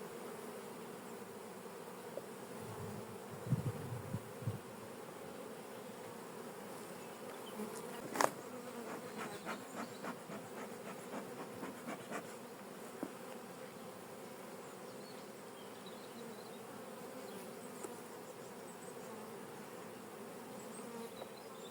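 Honeybees hum in a dense, continuous drone around an open hive during a spring inspection after wintering, with occasional nearby wing buzzes and faint clicks of frames being handled in warm sunshine.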